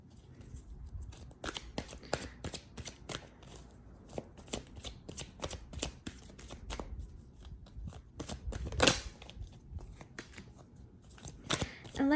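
A deck of tarot cards is shuffled close by in repeated quick riffles and crisp flicks, rhythmic bursts with short gaps between them, and occasional soft voice sounds.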